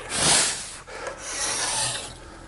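A putty knife scrapes glue off wood while cabinet doors are built, a close, loud rasping rub in two long strokes with a brief dip between them.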